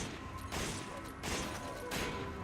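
Bursts of Resident Evil 5 video game gunfire arrive as two dense rapid volleys, loud and harsh, separated by a brief lull.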